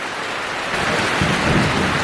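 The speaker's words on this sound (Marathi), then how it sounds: "बाप रे गडगडत आहे सगळं" Heavy unseasonal Konkan downpour: steady dense rain hiss throughout, with a deep thunder rumble swelling up about halfway through and rolling on to the end. No voices.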